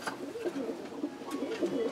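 Pigeons at a new pigeon loft coo in soft, repeated rolling calls, several birds overlapping at moderate distance over a quiet outdoor background.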